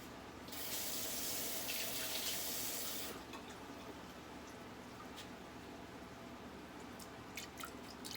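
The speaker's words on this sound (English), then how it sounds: "Rinse the cup." Tap water gushes into a sink for about three seconds while a cup is rinsed, then drops to softer trickles and drips, close and with no talk.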